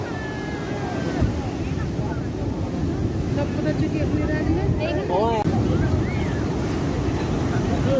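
Rough, choppy sea waves breaking on Puri beach, a continuous close roar of surf with heavy wind rumble across the microphone and some faint voices in the background.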